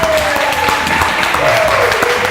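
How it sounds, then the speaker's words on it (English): Crowd applause at a car giveaway award ceremony for a GTO grand prize winner, a dense burst of clapping with some voices and a tonal note running through it, loud and close. "a round of applause"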